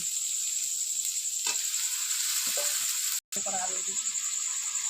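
Meat sizzles and hisses steadily in a hot pan, a loud continuous frying sound with a few soft stirring scrapes and one brief dropout near the end; a voice speaks faintly underneath.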